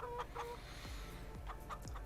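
Chickens in the Farming Simulator 22 game cluck in a few short, quiet repeated calls over a faint steady background hum.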